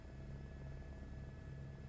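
Helicopter engine and rotor noise from Microsoft Flight Simulator 2024 plays as a faint, steady drone with a low, pulsing hum and no talking.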